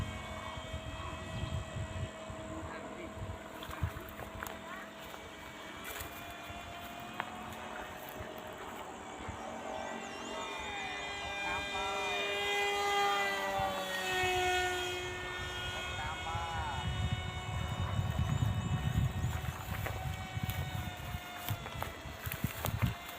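A handmade RC MiG-29 scale model jet with a rear-mounted electric motor at about half throttle whines in the air, its pitch sweeping up and down as it passes, fairly distant and steady.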